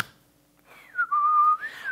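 A voice imitating happy whistling: a clear, close tune that slides and wavers over about a second, loud against a quiet background.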